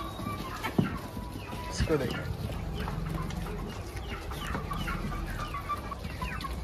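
Several chickens cluck and peck while eating leftover rice, with soft scattered clucks and a few sharper calls close by as someone talks over them.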